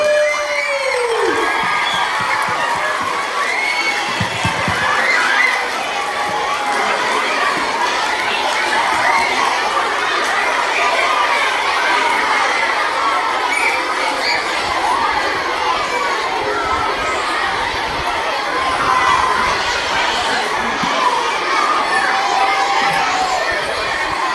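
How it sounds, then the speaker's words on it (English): Large crowd of school children in an indoor hall at an MND ice bucket challenge event, shouting, chanting and cheering loudly and continuously, a dense, echoing din of young voices with scattered whoops throughout. "Great chanting out there."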